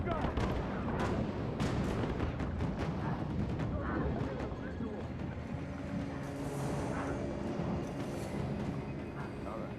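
Gunfire in Rise of the Tomb Raider, a steady crackle of shots with heavier booms over a dense background of game noise, continuous and fairly loud throughout.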